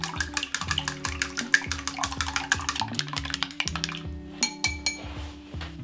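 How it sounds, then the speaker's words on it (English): Four eggs being whisked in a bowl for a crab omelette, a quick steady rhythm of clinks and taps from the whisk striking the bowl, close and fairly loud with no talk. "Whisk them until they're combined."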